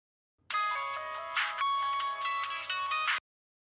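A phone ringtone plays loud and close in a household TV drama scene, a bright repeating electronic melody lasting about three seconds, alone with no talk.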